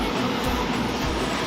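A train at Jaleswar railway station produces a continuous broad rumble and rush, steady and fairly loud throughout, with no one talking.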